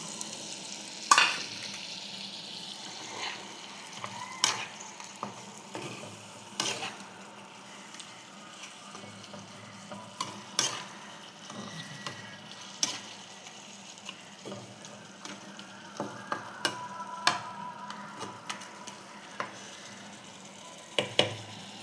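Spiced prawns frying in a pan give a steady low sizzle broken by repeated sharp clinks and scrapes of stirring, with running water in the background and no talking.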